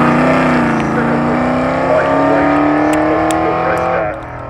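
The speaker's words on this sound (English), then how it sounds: "Car 54 on its way as well, another 3V8." A V8 race car at the Leyburn sprints roars past nearby, a loud sustained engine note that holds then drops away as it recedes.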